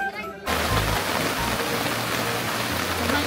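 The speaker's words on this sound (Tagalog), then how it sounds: "Malakas ang ulan ngayon dito sa campsite." Heavy rain pours down on a campsite in a dense, steady hiss after a brief quieter moment, with a low rumble underneath.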